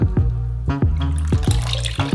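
Whey drips and splashes from mozzarella curds collected in a sieve, a series of distinct close drops and trickles in an uneven rhythm with no voices.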